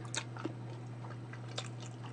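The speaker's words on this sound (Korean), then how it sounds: "고추가 바삭바삭 해가지고 소리 들리나요?" A few crisp crunching bites of crispy fried pepper close to the mic, two sharper crunches standing out over a quiet steady hum.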